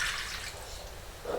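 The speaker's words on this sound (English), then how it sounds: "And now a cup of warm water." A cup of warm water is poured into a bread dough mix of flour and instant yeast for garlic, herb and cheese bread, a soft, brief liquid splash and trickle close by, with no one speaking.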